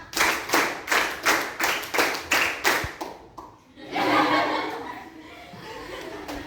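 Students in a classroom rhythm exercise clap in unison eight times as two sets of four, sharp and evenly timed. Chuckling and lively group chatter follow.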